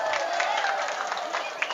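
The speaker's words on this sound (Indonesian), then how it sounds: "Tepuk tangan." A seated audience at a talk or religious gathering claps in a dense, steady ripple of many hands, with crowd murmur mixed in and one sharper clap near the end.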